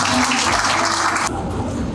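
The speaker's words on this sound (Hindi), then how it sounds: "जोरदार तालियां" A room full of people at a motivational seminar clapping loudly. The applause is steady at first and then thins slightly toward the end.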